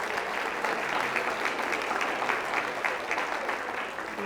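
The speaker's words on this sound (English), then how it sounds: "let's give these volunteers a nice round of applause" An audience at a STEM conference plenary session applauds as volunteers come up on stage, a steady, full round of clapping from a large crowd lasting the whole stretch.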